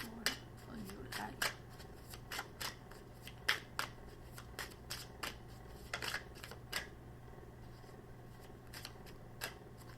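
Tarot cards being shuffled, a series of crisp papery riffles and slaps in irregular bursts, close and quiet, with a low steady hum beneath and quieter stretches between.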